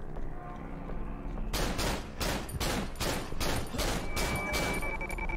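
Rapid gunfire from the horror video game Cry of Fear, a sequence of about eight sharp, loud shots in quick succession after a quiet, low ambient start.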